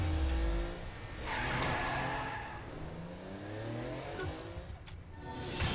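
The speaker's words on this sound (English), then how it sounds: "Power sliding." A car power slides in Saints Row: The Third, engine revving low while the tires squeal in long rising and falling whines at a moderate distance.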